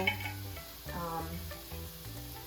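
Shrimp taco mixture sizzling in a pan, a steady close frying hiss with a brief stir or toss partway through.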